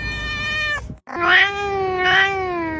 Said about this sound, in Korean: 가끔 정말 특이하게 우는 양이가 발견되곤 하는데요